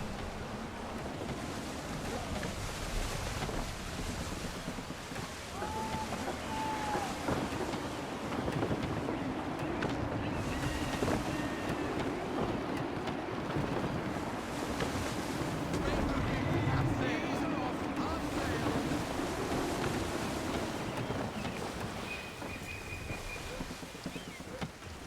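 Gusty wind and rolling sea waves during sailing in the game Assassin's Creed 3, a continuous broad rushing roar with swelling gusts and wash, steady and fairly loud throughout, with faint creaks and tonal game sounds mixed in.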